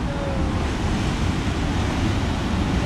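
Ocean surf rolls and breaks steadily at a coastal fishing spot, a loud, continuous wash of waves with wind buffeting the microphone and no voices.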